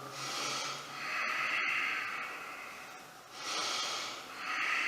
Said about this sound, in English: doing my deep breaths